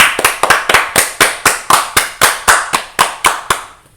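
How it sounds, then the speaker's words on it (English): Sharp, close hand claps ring out on a podcast set, about fifteen crisp, evenly spaced claps in a steady rhythm, each one loud and distinct with no talking over them. "Can we get in a round of applause?"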